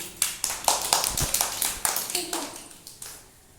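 Hands clapping in a quick, slightly uneven run of about a dozen sharp claps, fairly close, with a little background chatter between them.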